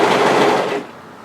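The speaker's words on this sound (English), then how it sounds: "just keep overlocking on the single layer for around about another inch or 2" An overlocker stitches along fabric edges for a one-shoulder sweater, a fast buzzing whir for under a second that stops abruptly, close and loud.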